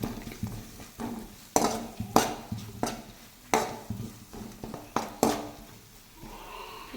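A utensil stirs turmeric through a pan of green chilli paste for tamarind rice, giving repeated close scraping knocks at a steady rhythm over a soft frying hiss, with no talk.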